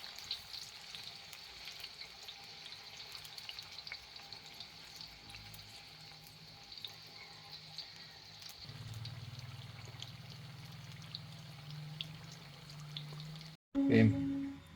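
Tofu fries in oil in a non-stick pan with a faint, steady sizzle and a low background hum, then a brief cut before a louder burst of kitchen noise near the end.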